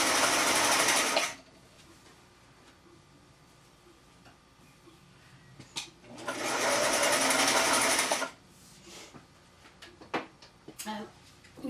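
Vintage Singer sewing machines, a 413 and a 476, stitching on zigzag: two loud bursts of rapid mechanical whirring, separated by quieter clicks and handling noises, with more clicks and knocks at the end.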